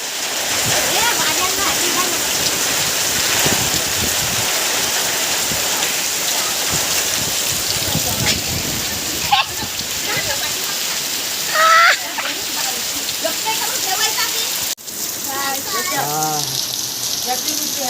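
First rain of the season falling on a village in the Konkan, a loud, steady wash of downpour on surfaces, close and continuous, with children's voices and other people talking over it.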